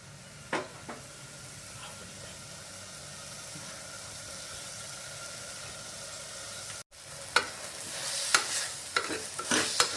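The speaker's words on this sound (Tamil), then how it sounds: "கேரட் நல்லா வதங்கிடுச்சு" Carrots being sautéed and stirred in a pan, a faint, steady sizzle with occasional scraping clicks of a utensil, growing busier with sharper stirring knocks near the end.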